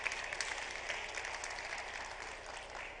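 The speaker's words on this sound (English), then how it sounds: "I believe Tecno deserves a round of applause for that." Audience applause at a Tecno launch event for the POVA 6 Neo phone, a steady dense wash of clapping filling the hall for the full stretch without a break.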